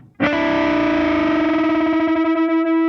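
A loud distorted electric guitar sounds two strings together, the pitches bending and beating against each other in a wavering, sustained tone.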